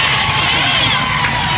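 A loud crowd at a teacher pay protest in Raleigh cheers and roars without a break while Governor Roy Cooper addresses the gathering.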